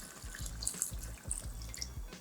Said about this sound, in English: So at this point, I just wanna add a cup of water.